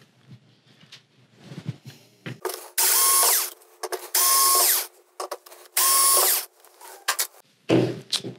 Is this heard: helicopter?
no